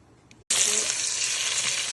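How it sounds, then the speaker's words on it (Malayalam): Jackfruit pieces drop into hot oil and set off a sudden loud, dense sizzle that holds steady and close for over a second and then cuts off, with a quieter stretch before it. "ചൂട് എണ്ണയിലേക്ക് നമ്മുടെ ചക്ക ഇട്ടിട്ടുണ്ട് കേട്ടോ."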